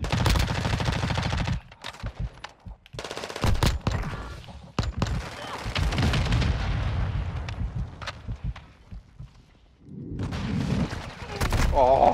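Friendly air support strikes in a shooter video game land as a burst of loud, booming explosions and heavy gunfire, broken by short silences, with a player talking over parts of it.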